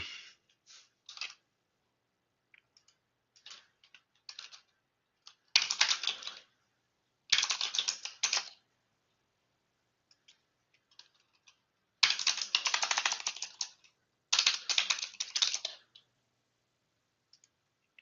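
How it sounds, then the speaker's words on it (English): A loud computer keyboard clatters in bursts of rapid clicky keystrokes, separated by pauses and a few scattered single taps, close up with no talk. "I'm on my loud keyboard today, guys."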